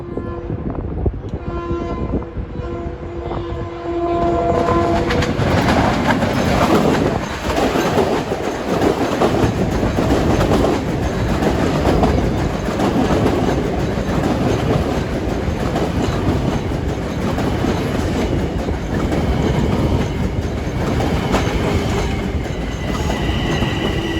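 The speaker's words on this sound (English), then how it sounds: "Approaching at 3:27 is train 2055 from Ronkonkoma to New York." A Long Island Rail Road passenger train from Ronkonkoma to New York passes New Hyde Park station at rush hour, a loud sustained roar of wheels and cars rumbling close by, with rhythmic clatter and a high whine over it.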